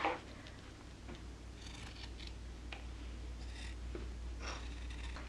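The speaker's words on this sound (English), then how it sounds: "We will just take ordinary scissors and go cut out that shape." Ordinary scissors snip through fabric while a jelly tote is being made, a few faint, scattered cuts against quiet room tone.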